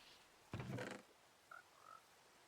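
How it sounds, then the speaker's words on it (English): Frogs croak softly in Minecraft ambient sound near a swamp, giving one louder low croak and then a couple of faint short chirps against quiet background hiss. "Why am I hearing frogs?"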